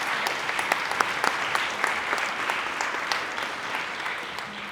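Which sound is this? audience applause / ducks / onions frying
audience applause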